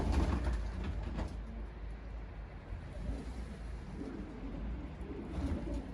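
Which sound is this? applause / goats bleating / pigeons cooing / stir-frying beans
pigeons cooing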